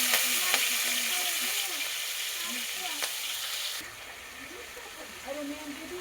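Onion, tomato and green chili sizzling steadily in hot oil over a high gas flame, stirred now and then with soft scraping, a continuous close frying hiss that drops a little partway through.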